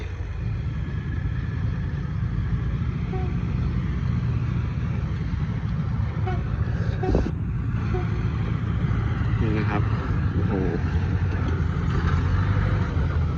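Small Thai farm tractors idle and run together outdoors, a steady low rumbling engine drone with faint intermittent clatter and no clear talk.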